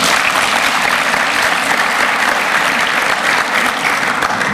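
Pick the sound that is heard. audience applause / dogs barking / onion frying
audience applause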